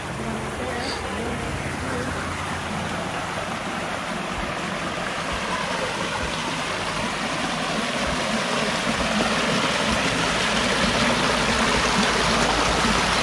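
Water rushes and splashes continuously nearby, a steady broadband roar of small waterfalls near Valdez, Alaska.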